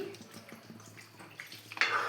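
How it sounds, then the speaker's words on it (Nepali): Water is poured into a pot of potato and soybean curry, making a soft splashing and trickling that grows louder toward the end, quiet and close, with faint kitchen clatter and no talking. "अब यसमा चाहिँ हजुरहरूले चाहिँ पानी राख्न सक्नुहुन्छ है आवश्यकता अनुसार।"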